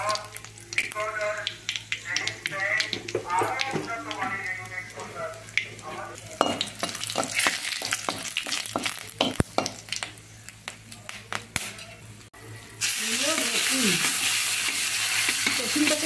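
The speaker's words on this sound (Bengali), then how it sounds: "রসুনটাকে বেশি ভাজতে হবে না," Garlic, nigella seeds and dried chilli fry in hot oil with a steady close sizzle and crackle, stirred with scattered utensil clinks, and a voice talks over part of it before the frying swells louder toward the end.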